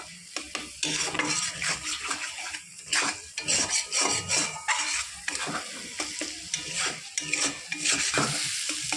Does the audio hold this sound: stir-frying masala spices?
yes